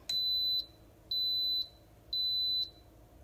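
An Instant Pot pressure cooker gives three steady high-pitched electronic beeps, each lasting about half a second, evenly spaced with pauses between them, clear and alone.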